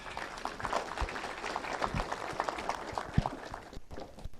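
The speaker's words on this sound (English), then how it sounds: "A good round of applause." An audience at a science week event applauds, a dense steady patter of many hands clapping together, fading out near the end.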